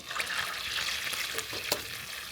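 Fried onions and ginger-garlic paste dropped into hot oil for a chicken roast in the Old Dhaka style, giving a dense, steady sizzle with a few soft stirring clicks, close up and without talking.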